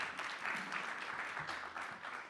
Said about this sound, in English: Another round of applause for Filippo.